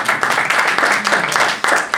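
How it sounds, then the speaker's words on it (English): An audience applauds Kelly at a magic show, dense clapping in uneven bursts with the host's voice briefly over it. "How about a round of applause for Kelly, ladies and gentlemen?"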